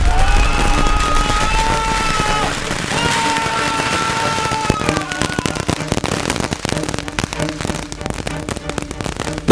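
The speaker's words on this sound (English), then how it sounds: "The fireworks were going crazy" A Supernova firework box goes off with a dense rush of whistling, crackling bursts that turns into rapid, sharp pops and bangs, loud and sustained throughout.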